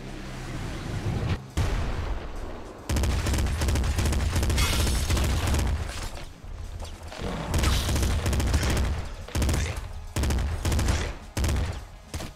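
Assault rifle gunfire in the roguelike video game Nuclear Throne, heard as dense, sustained rapid shooting with booming game effects, briefly interrupted once and then continuing steadily loud over a background of game music.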